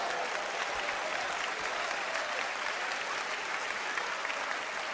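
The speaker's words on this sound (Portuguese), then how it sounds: "Aplauda o Senhor e sirva." A church congregation applauds in a steady, even wash of clapping that stays dense and unbroken from start to finish, heard from a slight distance.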